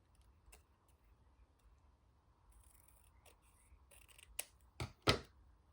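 Scissors trimming paper scraps for a craft embellishment, faint quiet snips early, then a few sharper, louder cuts near the end against a near-silent background.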